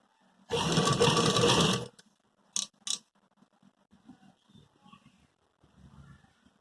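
A sewing machine stitches a ready-made suit collar in one loud, continuous run of about a second and a half, followed by a few short clicks and faint handling sounds.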